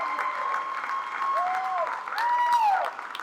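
Steady clapping from the audience at an Arkansas Municipal League meeting, with some whistled, sliding tones and a voice rising over the continuous applause.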